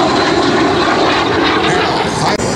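A twin-engine L-26 multi-engine trainer flies at an airshow, and its engine roar holds loud and steady throughout with no break.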